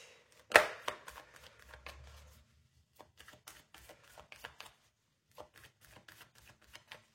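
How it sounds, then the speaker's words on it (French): A deck of oracle cards being cut and shuffled by hand, one sharp riffle near the start followed by a string of soft, uneven paper taps and flicks, close and quiet with no talk. "On va couper le jeu."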